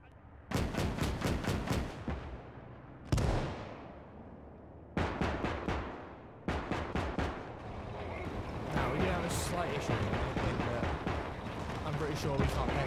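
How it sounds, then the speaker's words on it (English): Autocannon fire in the tank game Valour, bursts of sharp, heavy, evenly spaced shots, loud and close, with rumbling battle noise building underneath. "Its autocannon is working perfectly"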